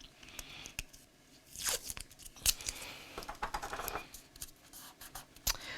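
Scissors trim craft paper in short, crisp cuts and snips, with soft rustling and crinkling between them, close and fairly quiet, with no speech.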